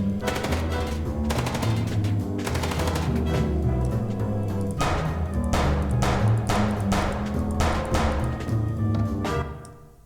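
Sustained automatic gunfire from the video game Chicken Police: Paint it Red, with loud, dense bursts of rapid shots repeating throughout over a busy action background and no talking.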